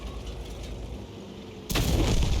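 Tank gun fire in a WWII tank battle video game with an M18 Hellcat and M12: a low rumbling background, then one sudden loud cannon blast near the end that rings on.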